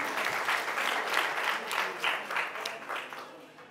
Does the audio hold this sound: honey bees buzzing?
no